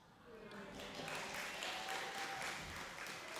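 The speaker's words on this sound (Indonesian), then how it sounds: "Nggak usah tepuk tangan juga maksudnya." Members of a Batak Protestant congregation at HKBP Bandung applaud during a Sunday service, soft diffuse clapping under a man's continuing speech.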